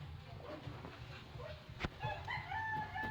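A mother pigeon clucks and calls close by against steady background hum, with a sharp knock partway through.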